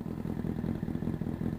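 A 2006 Honda CBR1000RR sport motorcycle engine idles with a steady, rapid low throb, close and even throughout.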